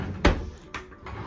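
A drawer in a Carnival Sunshine porthole cabin shuts with one sharp knock, followed by a couple of softer bumps, close and brief in a quiet room.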